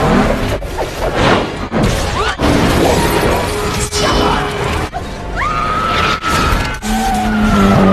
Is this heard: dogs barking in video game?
no